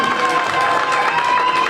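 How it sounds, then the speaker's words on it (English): Audience applause for a high school jazz band's rhythm section at a fish fry: a dense, even patter of clapping from a crowd, with murmured voices mixed in, steady throughout. "We can have a round of applause for that"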